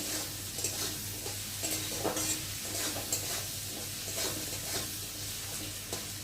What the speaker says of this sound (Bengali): তো আলুটা ভালো করে ভেজে নেব